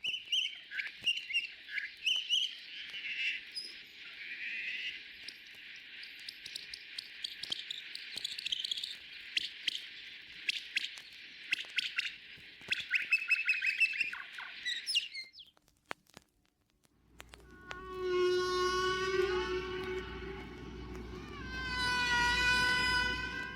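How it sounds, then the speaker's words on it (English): Humpback whale song sped up 14 times: a long run of high, rapid chirps and squeaks, then a pause and rising, tonal cries that sound almost like birds or cats. "This song is sped up 14 times."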